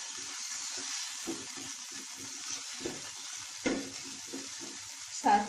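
Vegetable toffee filling mixed with chili sauce in a pan, giving a soft continuous sizzle with repeated light scraping strokes and a sharper clink near the end.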